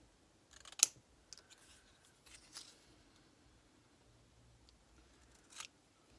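Scissors snip paper while a mini brag book is being made, giving a few quiet, sparse cuts and rustles, one sharper snip standing out in an otherwise hushed room.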